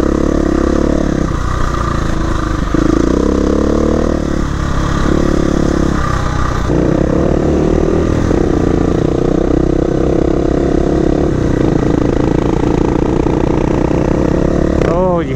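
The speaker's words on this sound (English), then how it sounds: "You hear the harmonics of that exhaust? They're talking to each other." A KTM 350 EXC-F and a Husqvarna FE 450 dirt bike at speed on dusty single track, their single-cylinder exhausts droning loudly and continuously with shifting revs and overlapping tones.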